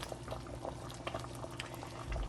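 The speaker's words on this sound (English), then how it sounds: "this has been going for half an hour, and it is boiling." Turkey fricassée bubbles at a steady boil in a pot over medium heat, a dense continuous burble of popping bubbles heard close and alone.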